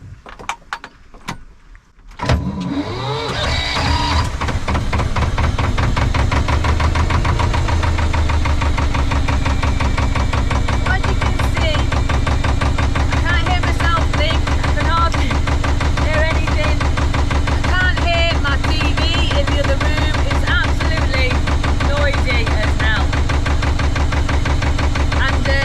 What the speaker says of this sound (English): It's an old 1969 HR2. It's a lot older than a boat and it's older than me.